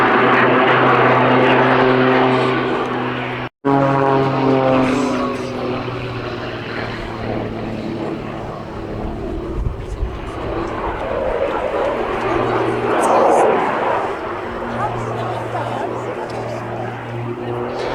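Pitts S-2S aerobatic biplane with jet engines performing hammerheads at the Duxford Summer Air Show, a loud droning engine whose pitch rises and falls as it climbs and turns, with commentary voices over it.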